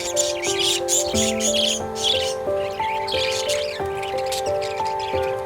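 African lovebirds and parakeets squawk and chirp together in an aviary, a continuous busy chatter of harsh calls and shrill chirps over a steady background hum, with no talking.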